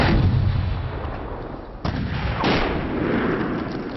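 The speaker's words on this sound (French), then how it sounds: "Ils vont procéder au tir d'un engin explosif artisanal comme on en trouve en Afghanistan" A loud, rumbling improvised explosive device detonation with a long roaring wash of debris and echo, followed by a second sharp blast partway through, no voices.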